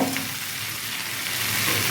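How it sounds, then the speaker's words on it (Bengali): Mixed vegetables fry in a pan with a loud, continuous sizzle while being stirred, giving a close, dense crackle with no talking. "যত সবজি ভাজবেন তত খেতে ভালো লাগবে দেখুন বন্ধুরা অনেকটা ভাজা ভাজা হয়ে গেছে"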